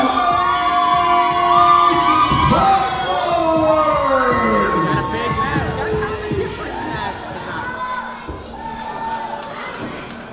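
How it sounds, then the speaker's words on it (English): Wrestling crowd at an indoor Lake City, Florida show cheering and whooping as a wrestler makes his entrance, a loud continuous roar of shouts and chatter with a ringing tonal sound sweeping over it early on. "the crowd's really excited to see him"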